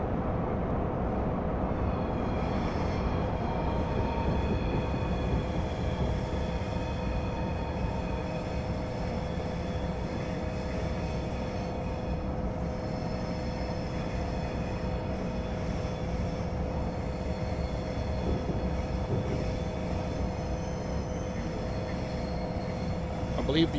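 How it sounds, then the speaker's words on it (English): An Amtrak Acela Express high-speed train on the Northeast Corridor in Train Sim Classic runs continuously with a loud, steady rumble, rolling noise and faint tonal whine throughout, with no pauses. "Acela train."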